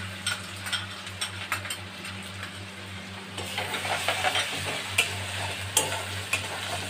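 Grated ginger and garlic fry in a pan with tempered chillies, giving a soft sizzle with scraping spatula strokes over a low steady hum, close and unhurried, no speech.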